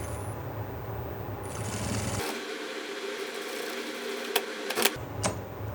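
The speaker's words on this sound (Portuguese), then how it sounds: "começar com uma costurinha com um pé de máquina" A sewing machine stitching fabric for a small organizer pouch, a steady mechanical whir that drops out for a few seconds and then resumes, with a few sharp clicks in between.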